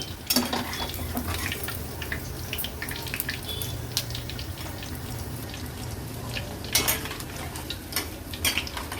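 Raw jackfruit pieces deep frying in hot oil, a continuous low sizzle broken by sharp crackles and the clink of stirring, close and moderately loud.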